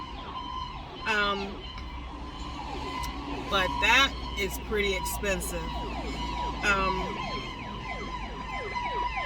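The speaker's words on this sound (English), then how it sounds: "And of course there's a ambulance coming." An ambulance siren wails outside, rising and falling in repeated sweeps, faint to moderate and somewhat distant, beneath someone talking indoors.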